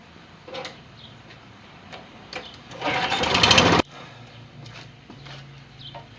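A push mower's small engine is pulled over with the starter cord: scattered ticks and clatter, then a loud second-long burst of rough engine noise that cuts off, followed by quieter mechanical sounds.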